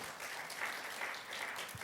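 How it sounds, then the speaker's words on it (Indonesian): Audience applause at a Sunday church worship service, a steady even wash of many hands clapping for under two seconds with no talking. "Mari berikan tepuk tangan."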